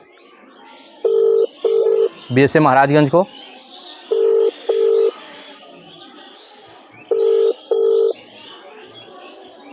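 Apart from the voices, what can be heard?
phone call ringing tone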